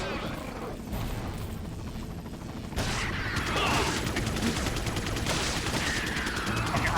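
Rapid enemy gunfire in Resident Evil 4, dense bursts of shots building after a short lull and continuing under a voice speaking.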